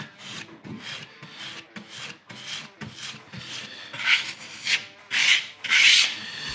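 Filler is scraped off a wooden chalkboard frame in repeated rasping strokes, close and alone, growing louder and harsher toward the end.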